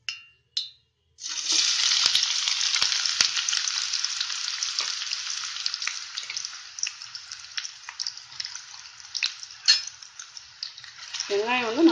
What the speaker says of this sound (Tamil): ஆயில் நல்லா ஹீட் ஆகிடுச்சுன்னா இப்போ வெங்காயத்தை போட்டு நம்ம பொறிச்சு எடுத்துடலாம்.